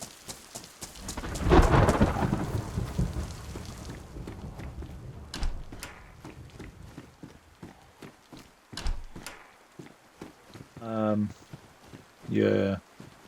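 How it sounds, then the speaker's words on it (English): Rain and rolling thunder in the game DayZ, a loud crackling rumble early on easing into steady rainfall, with a few distant thunder bursts near the end; a voice talks over parts of it. "it's raining where I am, wherever that is"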